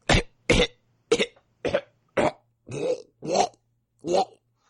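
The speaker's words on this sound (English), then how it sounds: "But then I start coughing, like it's in my mouth." A person gives a series of eight short, forceful coughs, evenly spaced and close up, the later ones rougher and longer, as if something were stuck in the mouth.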